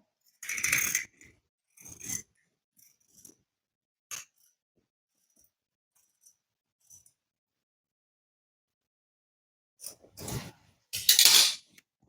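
Scissors cutting blouse fabric: sparse, crisp snips and small metallic clicks close to the mic, grouped at the start and the end, with near silence in between.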